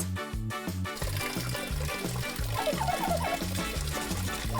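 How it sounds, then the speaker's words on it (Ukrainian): Foam bath filling with water in the video game Toca Life World, a cartoonish running-water trickle layered over a bouncy background music loop with a steady beat. "Пінна ванна. Ось те, про що я мріяла."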